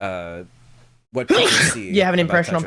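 A person gives one sudden, sharp sneeze after a brief pause in a casual late-night chat about Tetris, with close talking before and after it.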